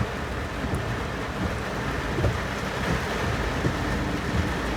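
Heavy monsoon rain pours down steadily outdoors, a dense, continuous wash of noise at a constant loud level from start to end, with no voices.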